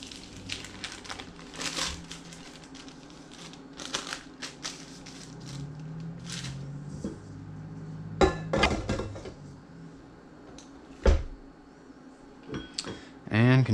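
Butter is worked into cookie batter for Italian rainbow cookies, with scattered scraping, clinking and knocks from a spoon or mixer against a bowl, intermittent and close, while a person talks throughout.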